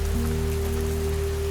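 Rain pattering in a constant, even wash of noise, alongside a low steady hum, brief and uninterrupted with nobody speaking.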